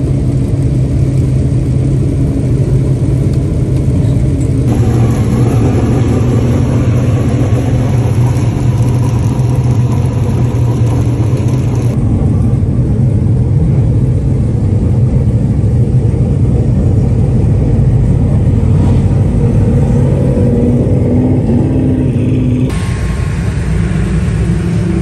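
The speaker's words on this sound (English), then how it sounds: "let's watch some racing." Race cars at All Tech Raceway in Florida during the first race of the season, a loud continuous roar of engines with shifting pitch as the field passes, with no voices.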